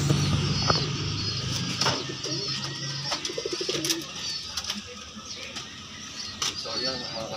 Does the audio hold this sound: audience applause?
no